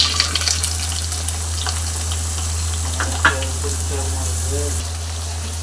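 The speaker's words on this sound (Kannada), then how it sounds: "ಟೊಮೆಟೊನ ಚೆನ್ನಾಗಿ ಫ್ರೈ ಮಾಡ್ಕೊಳ್ಳಿ ಗೈಸ್." Tomatoes frying in a pan make a moderate sizzle close by over a constant low hum, with bursts of clattering and a few faint tonal squeaks partway through.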